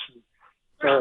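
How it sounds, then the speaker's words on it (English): A pet dog barks once, loud and close, at the end of a short stretch after a faint whimper, during a remote press conference with talk around it. "Sorry about my dog."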